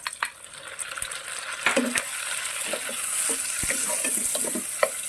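Ginger and tomato sautéing in a pan for Ilocano pakbet, a soft sizzle broken by scattered clicks and scrapes of a utensil stirring against the pan.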